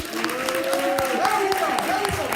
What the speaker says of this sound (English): let me hear you guys roar with applause